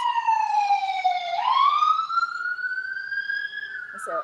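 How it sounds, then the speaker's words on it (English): An ambulance siren wails in long, sweeping tones that fall, then rise and level off, fairly loud and clear as the vehicle passes, with a brief faint sound near the end. "it's an ambulance."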